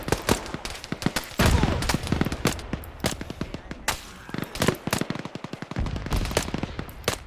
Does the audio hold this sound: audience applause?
no